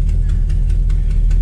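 A 1969 Dodge Dart engine running rough with a low, steady tractor-like rumble, close and loud, with faint rhythmic ticks repeating through the short stretch.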